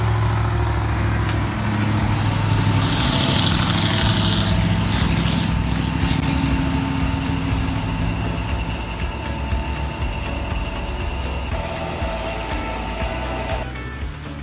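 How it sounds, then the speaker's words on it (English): A running bandsaw blade whines and rumbles loudly and continuously while a Dura Gold abrasive cleaning stick is pressed against it, the pitch dipping slightly near the end. "The Dura Gold Abrasive Cleaning Stick with the bandsaw"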